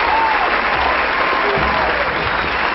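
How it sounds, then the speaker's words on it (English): Studio audience applause on a radio program, steady dense clapping throughout at a close, even level with no talk over it. "Round of applause."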